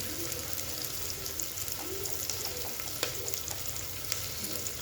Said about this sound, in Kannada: ಅರಿಶಿಣ ಉಪ್ಪು ಉಳ್ಳಾಗಡ್ಡಿನ ಹಾಕೋದ್ರಿಂದ ಅವು ಜಲ್ದಿನೂ ಫ್ರೈ ಆಗ್ತವೆ